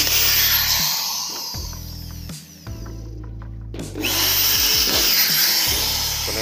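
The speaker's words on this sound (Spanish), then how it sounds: "hay que buscarle la parte más profunda y hacerle unos agujeros" A power drill bores holes into the deepest part of a small dent, running in several loud whining bursts that rev up and cut off, with brief pauses between them, close by.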